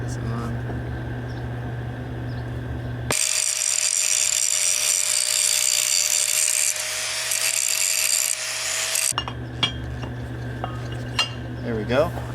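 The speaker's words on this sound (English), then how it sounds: "So I'm going to get the grinder, go around that edge, and be a little straighter." An angle grinder runs against the flared edge of a metal bar in a steady, loud whine lasting several seconds, set between stretches of quieter workshop noise and clanks.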